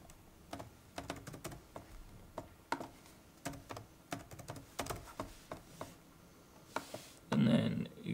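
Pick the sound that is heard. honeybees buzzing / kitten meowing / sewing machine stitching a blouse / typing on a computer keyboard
typing on a computer keyboard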